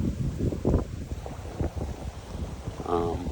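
Gusty wind buffets the microphone outdoors by a lake in uneven low rumbles, with brief faint voices and a light splash of movement near the end.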